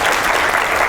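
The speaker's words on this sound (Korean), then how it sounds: "한번 박수 다시 한번 쳐주실래요?" Seminar audience at a Korea University graduate electrical engineering lecture breaks into a short, full burst of clapping, loud and close, with no voices over it.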